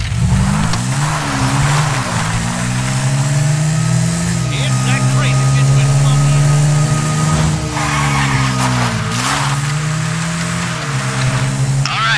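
A car in Grand Theft Auto V drives and revs loudly throughout, its engine pitch rising and falling in repeated surges with brief tire noise, and a voice talks over it at times.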